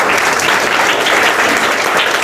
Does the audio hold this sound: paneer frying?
no